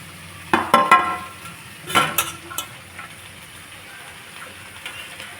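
Okra tossed and stir-fried with onions in a pan, heard as a few loud clattering scrapes of a spatula against metal over a soft sizzle, then quieter settling noises.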